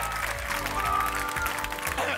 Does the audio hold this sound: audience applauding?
yes